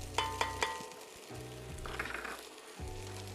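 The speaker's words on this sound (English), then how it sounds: "We're gonna be sauteing the vegetables that we're gonna be having in here." Onions and garlic sauté in a pot with a soft, close sizzle, following a few sharp knocks at the start. The sound is fairly quiet and there is no speech.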